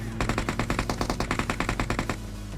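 An automatic weapon fires a rapid, evenly spaced burst of about twenty shots in PUBG Mobile, loud and close, before cutting off abruptly.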